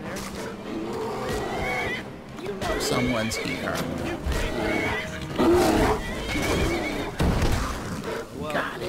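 A horse neighs in Skyrim, a loud whinny rising amid game sound effects and hoof clatter, while someone talks over it in short remarks.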